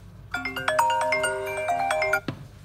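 A ringtone plays from an iPhone 11 Pro Max, 64 GB, with a cracked screen: a bright, melodic run of chiming tones, loud and close, lasting about two seconds and then stopping abruptly, with no talking.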